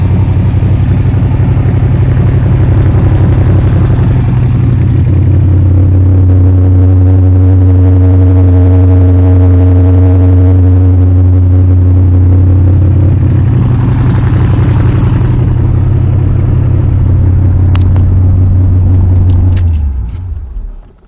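A 49-year-old Corvette engine runs close and loud with a deep, steady rumble and a slight rise in revs, then cuts off abruptly at the end.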